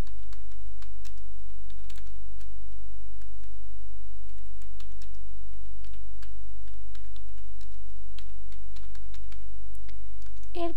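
Steady typing on a computer keyboard while entering jQuery code, with irregular clicking keystrokes running through the whole stretch at moderate closeness, no voices over it.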